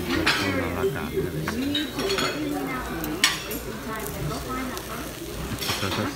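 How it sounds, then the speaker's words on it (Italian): Onions cook on a hot griddle at a Mexican eatery in Marina del Rey, Los Angeles, giving a steady sizzle with metal utensil scrapes and clinks while a voice talks throughout. "Qua sono delle cipolle quindi inizio la piastra a cuocere"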